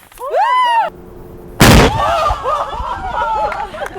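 A bomb squad demonstration charge goes off in an outdoor park, a single loud, sharp blast after a countdown. Before it, voices and excited cries are heard, and afterward people react and chatter.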